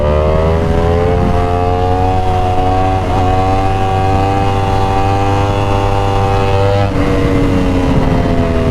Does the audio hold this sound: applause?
no